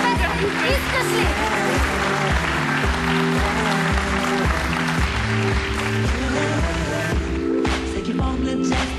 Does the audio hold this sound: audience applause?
yes